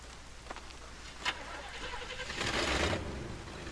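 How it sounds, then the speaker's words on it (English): A car engine runs in the video game Bayonetta on Xbox 360, with a few soft clicks and then a rising rev that swells louder near the end over a faint, steady background hum. "Engine still purrs nicely."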